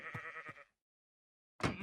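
A goat from the Minecraft modpack Stoneblock 4 gives a short, quavering bleat, then a second bleat follows after a silent gap. Both calls are close and clear.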